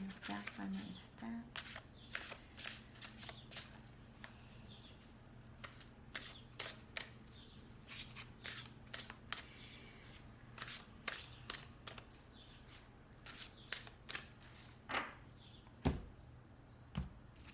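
Oracle cards are shuffled and drawn from a deck, making a series of crisp, close snaps and riffling clicks spread irregularly across the clip, with quiet talk in between.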